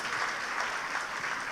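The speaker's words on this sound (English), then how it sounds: "Another round of applause for John," An audience at an International Women's Day seminar applauds a panelist named John, a steady, dense wash of clapping from many hands that holds evenly for the whole stretch with no talk over it.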